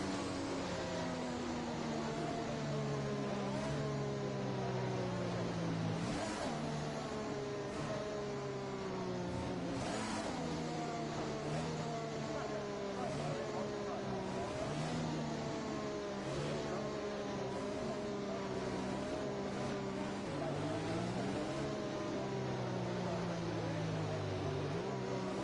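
Several F1 cars accelerate at a safety car restart in the F1 2021 video game, engines climbing through gears in rising, shifting whines that overlap and keep repeating, loud and continuous for the whole stretch.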